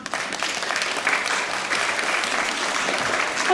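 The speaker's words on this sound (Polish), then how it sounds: "I wielkie brawa." Audience applause at a nativity play festival in Miechów, a steady dense clapping from a hall crowd lasting the whole stretch without a break.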